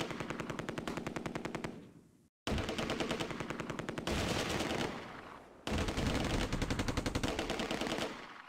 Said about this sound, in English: Lance-Bombardier Mulder's anti-tank gun lines up a shot on the Panther.